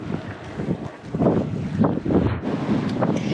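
Strong gusting wind buffets the microphone while riding a bicycle against a headwind on the road near Kıyıköy, coming in loud rolling surges with no speech.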